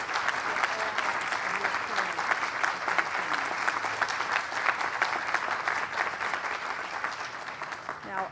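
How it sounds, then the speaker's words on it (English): A big round of applause from the crowd at the SFMTA centennial kickoff event with the mayor and a senator, dense sustained clapping that stays loud and even throughout, with faint voices mixed in. "you would do me a great honor if you would give him a big round of applause"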